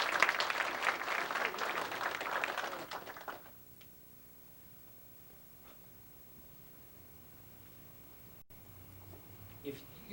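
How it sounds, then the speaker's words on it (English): Brief round of audience applause for a volunteer at a karate pressure-point demonstration, dense and moderately loud for about three seconds before cutting off into near silence with faint room noise. "Give him a little round of applause."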